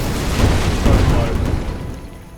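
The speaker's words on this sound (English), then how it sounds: "we'll shredder bomb the bastards" Shredder bomb detonating in Age of Wonders: Planetfall, a heavy booming explosion with two swelling rumbling surges that fade out, while a voice talks over it.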